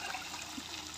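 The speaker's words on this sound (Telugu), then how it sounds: "బిందెలో నుంచి నీళ్ళు" Water pours from a metal pot into a cooking vessel while making biryani, a brief, steady splashing rush at moderate volume with no voices.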